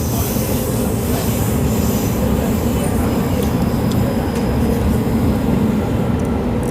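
A train at Meltham Station gives off a steady, close rumble with a constant low roar and faint high hiss throughout, with no clear breaks.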